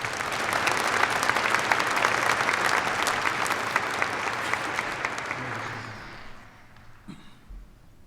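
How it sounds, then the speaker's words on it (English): Audience applause rings out at the 2019 University of North Dakota spring graduate degree ceremony, a loud sustained round from a large crowd that fades away toward the end, leaving a few stray sounds. "Please give them a round of applause."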